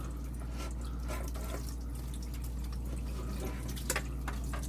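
Warm water poured over built-up ice in a freezer that is not freezing, making a steady trickling, dripping wash of liquid with a few brief sharper drips, heard close and alone over a constant low hum.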